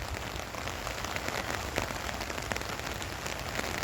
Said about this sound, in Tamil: லேசான மழை, ஆனால் மேகமூட்டம்.